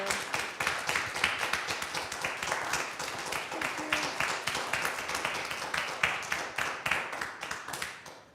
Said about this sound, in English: Okay, can we get another round of applause for Emilly Prado?